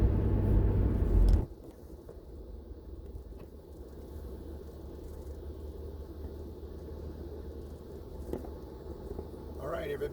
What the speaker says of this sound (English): So I'm going to end this video with a little bit of driving.